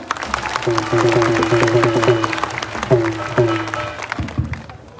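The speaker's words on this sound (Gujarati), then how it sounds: "જોરદાર તાળી પાડો" An audience applauds a politician at a rally in Gujarat: steady clapping from a crowd, mixed with a tonal musical sound, fading toward the end.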